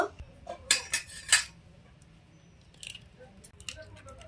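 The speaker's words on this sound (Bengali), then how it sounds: "প্রথমে আমি দুটো ডিম ফাটিয়ে নেব।" Two eggs are cracked against a bowl, giving a quick run of sharp, close taps and clinks, followed by softer scattered knocks in a quiet kitchen.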